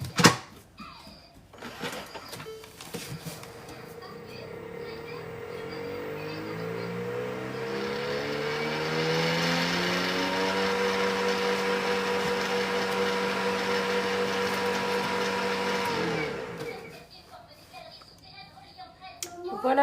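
A Thermomix TM7 food processor spins up to speed 10. Its motor whine climbs steadily in pitch, holds a loud, steady roar for several seconds, then winds down, with brief handling noises at either end.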